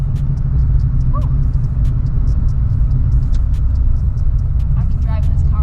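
A steady, heavy low rumble of a Fox Body Ford Mustang with worn suspension riding over a rough road, with faint clicks and rattles and occasional voices.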